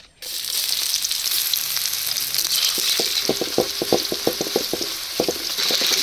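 Chopped onion hitting hot oil in a pan for chicken keema, a loud steady sizzle with a run of rhythmic scraping stirs partway through, close up and without talk.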